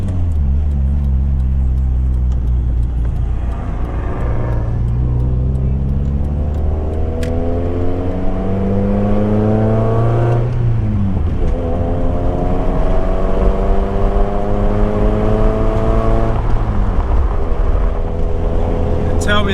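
A hillclimb race car at Mount Panorama, Bathurst, with a faulty clutch, loudly revving up and down through gear changes for the whole stretch, rising and falling engine pitch up close with wind noise.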